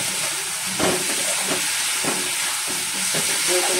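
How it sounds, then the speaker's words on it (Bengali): Fish seasoned with salt and turmeric sizzles in a hot pan, a steady broadband hiss broken by a few louder crackling bursts as it fries, with no talking. "ভালো করে ভেজে নেব।"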